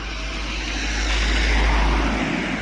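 A car passes close by on a road, a steady broadband engine and tire rush swelling toward the middle and easing off, heard from a bicycle ride with no talk.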